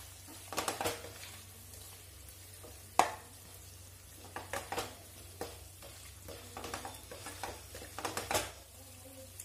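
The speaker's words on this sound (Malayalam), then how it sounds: "ഇത് നന്നായിട്ടൊന്ന് മിക്സ് ചെയ്ത് കൊടുക്കുക" A spoon stirs chicken with chili powder and chicken masala in a pan, giving scattered scraping knocks and soft clatters over a low, steady background hum, with a few louder strikes standing out.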